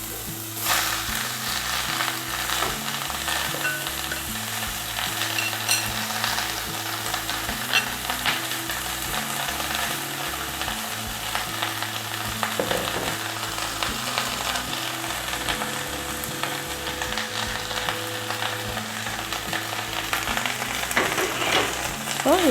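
Moringa leaves are stir-fried in a pan, giving a constant fairly loud sizzle with a low background hum, steady for the whole stretch.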